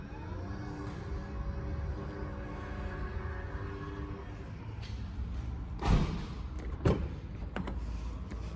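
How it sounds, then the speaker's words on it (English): Power lift gate on a 2019 Nissan Rogue SV, heard from inside the vehicle: a steady electric motor hum runs for about five seconds, then two distinct thuds about a second apart as the gate latches shut. "Here is the power lift gate from the inside."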